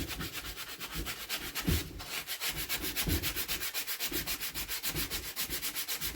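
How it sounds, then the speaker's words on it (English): A cleaning pad scrubbing a Villiers engine crank, giving a steady rhythmic back-and-forth rubbing close by that continues without pause throughout. "Let's get a pad and let's clean our crank."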